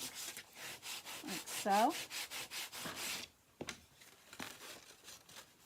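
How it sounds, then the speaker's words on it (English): Paper being burnished onto a gift box, a steady run of firm back-and-forth rubbing strokes close up, then a few sparser scrapes and taps with a brief spoken phrase. "you can go ahead and give it good burnishing"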